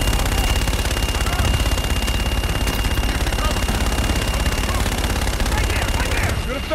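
Sustained, dense automatic gunfire from a fire-support strike in the video game Call of Duty: Infinite Warfare, a loud continuous roar of rapid shots lasting several seconds with radio chatter over it.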